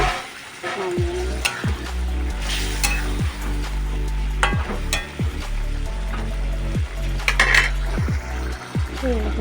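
A pan of reduced gravy simmers with a steady sizzle as fried fish pieces go in, while a spoon stirs and scrapes against the pan at regular intervals, up close throughout.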